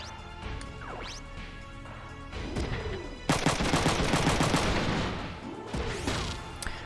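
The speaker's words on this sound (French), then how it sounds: "on va devoir utiliser la mitraillette" Gunfire and crashing impacts from the PlayStation tactical game Front Mission 3, starting with sweeping mechanical whooshes, then a loud burst of rapid fire with heavy crashes at the midpoint that fades back to swooping tones.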